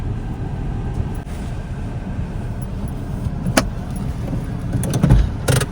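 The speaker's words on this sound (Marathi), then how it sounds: "थांब आमची गाडी टर्न होऊ दे अजून" A car moving along a road toward a beach, heard from inside as a steady low engine and tyre rumble with a few faint clicks and knocks near the end.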